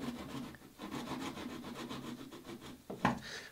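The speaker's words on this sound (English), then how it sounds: "it's hard to get any saw in and cut this angle properly" A hand saw cuts a square line across wood for a boat cleat on a wherry build, a steady rasping stroke rhythm, close and fairly quiet, with a sharper knock near the end.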